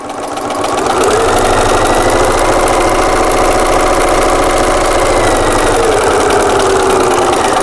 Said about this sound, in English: Just pull that down and start stitching again.